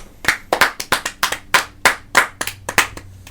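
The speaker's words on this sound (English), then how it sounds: "Round of applause for Dustin Poirier." A few people clap for Dustin Poirier during a casual post-fight talk about Islam Makhachev versus Poirier, about a dozen brisk, close, uneven claps with no voices over them.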